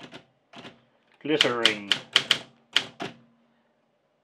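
Crisp mechanical keystrokes from a 1950s Olympia SM4 manual typewriter land in a quick run of sharp clicks, mixed with a voice speaking close by.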